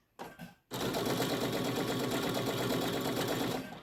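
After a couple of short starts, a sewing machine stitches a credit card pouch in a loud, steady, close-up whirring rattle that runs for about three seconds before easing off.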